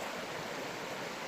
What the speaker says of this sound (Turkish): derenin sesi mis gibi.